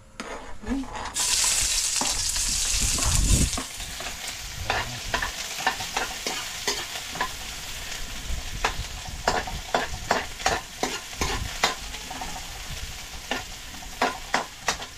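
Onions sautéing in a pan for a coconut-milk dish, a loud burst of sizzle at first settling into a steady fry with rapid rhythmic scraping and clinks of stirring.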